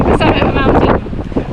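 Strong gusts buffet the microphone during a walk along a rocky, windy island coast in the Baltics, producing loud, close rumbling bursts that ease slightly toward the end.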